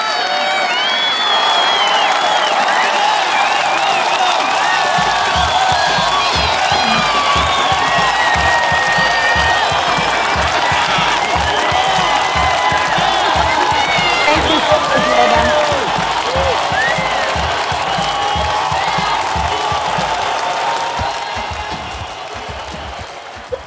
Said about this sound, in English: could we get an applause for